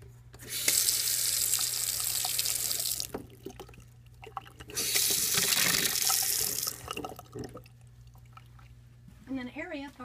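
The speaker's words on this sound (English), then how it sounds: "One bar includes a sink with running water," Water runs from a tap into a bar sink on the upper deck of an insulated 16 x 80 Stardust houseboat, in two loud steady bursts separated by a quieter pause, with a steady low hum beneath and a brief voice near the end.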